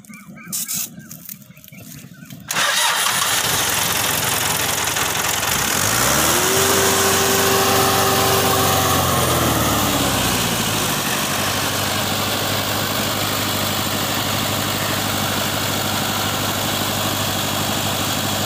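A Fiat 640 tractor engine cranks over, catches and settles into a loud, steady diesel idle with a deep throb, its pitch rising briefly as it revs before dropping back to a constant rumble; a few clattering knocks come before it starts.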